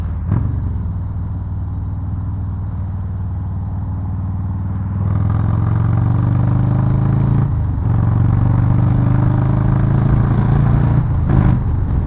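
Harley-Davidson Low Rider S motorcycle engine rumbling steadily up close, then building in pitch and loudness as it accelerates onto the freeway, with a brief gear-shift dip and another shift near the end; no talking.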